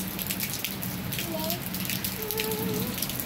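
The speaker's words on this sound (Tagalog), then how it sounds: "Tuwa ang mga halaman, nadilig sila ng ulan." Rain falls on garden plants in a steady, close patter and hiss, with faint voices behind it.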